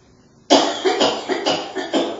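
A person coughs in a quick series of about five harsh, close bursts after a short quiet moment.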